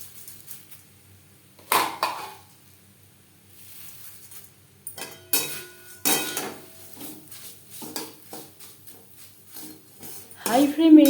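Flattened rice (chire) is stirred in hot oil in a pan over a low flame, with a utensil scraping and clinking against the metal in sparse, irregular strokes separated by quiet gaps.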